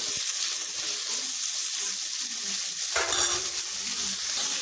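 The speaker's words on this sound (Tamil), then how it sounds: "ரொம்ப வெங்காயம் வதக்கணும்னு இல்லை, ஓரளவுக்கு வதங்கினா போதும்" Chopped onions sauté in a hot pan for cauliflower fried rice, giving a steady close sizzle with a brief stirring scrape midway, and no talking over it.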